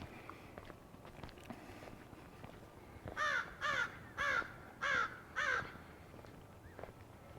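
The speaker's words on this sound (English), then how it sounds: "Could be a crow. It's a crow." A crow caws five times in a steady series, each harsh call fairly loud and close over quiet outdoor street ambience on a small-town walk in Three Forks, Montana.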